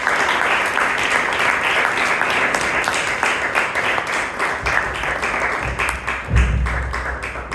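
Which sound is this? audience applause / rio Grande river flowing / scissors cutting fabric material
audience applause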